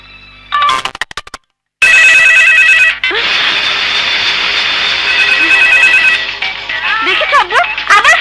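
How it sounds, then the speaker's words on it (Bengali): A mobile phone rings with an incoming call: a bright electronic ringtone plays loudly and steadily for several seconds after a brief burst of other noise, with melodic warbling toward the end. "দেখেছো আব্বু, আবার ফোন করেছে।"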